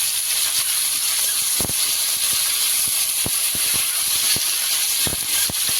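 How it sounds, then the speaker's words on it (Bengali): Capsicum and onion sizzle steadily in a hot kadai, a constant bright hiss with several short sharp scrapes and knocks as a spatula stirs them, close and loud, no talking. "ক্যাপসিকাম আর পেঁয়াজটা একটু কড়াতে দিয়ে দিচ্ছি"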